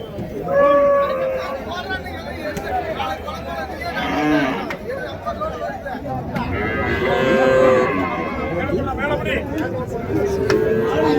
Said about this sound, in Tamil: இங்கேயும் ஒரு ஜோடி நல்லா பெரிய காளைங்க.